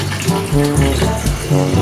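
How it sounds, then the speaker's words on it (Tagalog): A hotel toilet's eco washer bidet sprays water in a steady gushing stream, close and fairly loud, pulsing slightly as the flow continues. "So pag umupo ka dyan, may lalabas na tubig."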